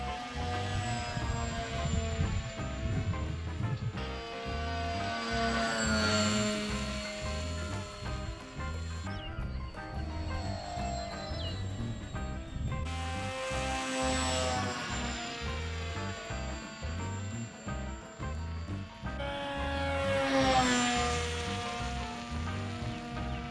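An FT Explorer RC plane's motor and propeller run at half throttle in flight, a steady whining buzz with shifting pitch sweeps and wind rush, heard close from onboard for the whole stretch.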